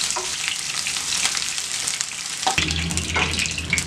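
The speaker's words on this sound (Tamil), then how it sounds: "கொஞ்சம் எண்ணெய் ஊற்றி தான் எல்லாமே நம்ம பொரிச்சு எடுத்துக்கிறோம்" Chicken fries in a little oil for honey chicken, crackling and sizzling up close with stirring knocks, then a fuller, louder sizzle as more pieces drop into the pan.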